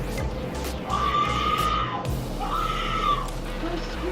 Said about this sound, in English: Her screams are enough to make your heart stop.